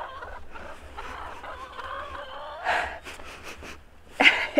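Chickens cluck and squawk inside a coop, a steady murmur of hens rising into a few louder, sharper calls near the end.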